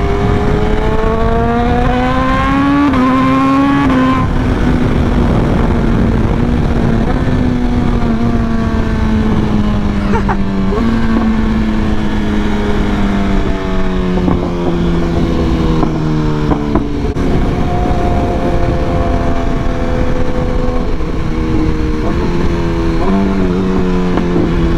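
Several motorcycles ride through busy city traffic on the way to Brooklyn, a steady engine drone with rising and falling pitch as the bikes shift and accelerate, loud and close throughout.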